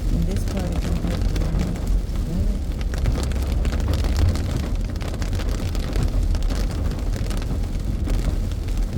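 Steady rain on a back road in Kentucky heard from inside a moving car, a dense continuous wash of drops and road rumble with low engine noise, loud and unbroken throughout.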